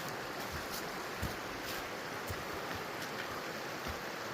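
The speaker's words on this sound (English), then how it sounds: "It's a pretty good sized river." A good-sized river flowing along a trail, steady broadband rushing water with occasional splashes, continuous and fairly close, with no talking.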